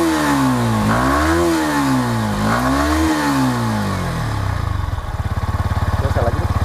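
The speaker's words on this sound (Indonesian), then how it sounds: "Kita coba geber sampai limit ya." A Yamaha R15 V4 sport motorcycle engine revs up and down in repeated sweeping pulls, climbing toward the limiter and then settling into a rough, pulsing idle, loud and close.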